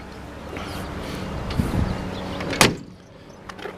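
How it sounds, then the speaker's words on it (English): A custom 1948 Ford F1 pickup truck locks its doors by remote: a sharp, loud mechanical clunk rings out near the end over a low, steady background hum, followed by a fainter click. "boom, and it locks the door"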